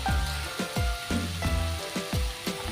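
Chopped banana flower fries in a pan with turmeric for a Bengali mochar ghonto, sizzling steadily and loudly while a spatula scrapes and stirs in a regular rhythm about twice a second.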